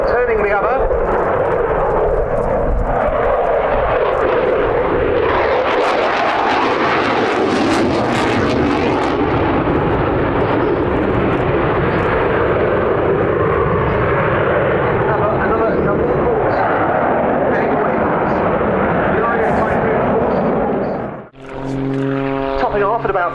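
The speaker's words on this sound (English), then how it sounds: "Now a derry turn, rolling one way, turning the other." At an air show, an aerobatic airplane performs a derry turn, its engine a loud, sustained roar that swells and shifts in pitch as it maneuvers, with a commentator speaking over it and a brief dip near the end.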